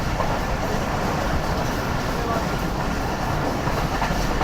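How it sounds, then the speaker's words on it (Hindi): Karakoram Express train running on tracks toward Khanewal at dusk, a steady loud broadband rumble with rail rattle continuous throughout, heard from inside the moving train. "हमारी ट्रेन दौड़ रही है इस वक्त खानेवाल की तरफ"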